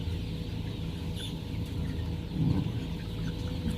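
Young roosters, about one month old, cluck softly amid a steady rustling background in a traditional coop with a thatched rumbia roof, with a slightly louder burst of fowl sounds near the end.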